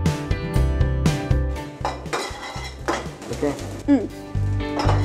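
Garlic dropped into hot oil in a pan while cooking white sauce spaghetti in a restaurant kitchen: repeated metallic clinks and scrapes of a utensil against the pan over a light sizzle, close and fairly loud, with a brief spoken word.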